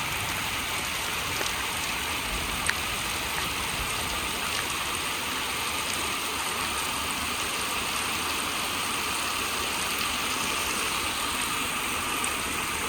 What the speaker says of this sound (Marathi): चला, पाऊस चालू आहे.